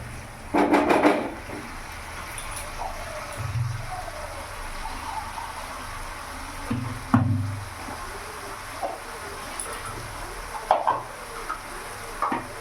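Mustard-poppy seed fish curry cooking in a pan on a gas flame, a soft sizzle and bubble with scattered clinks and stirring knocks, quiet and close, no talk.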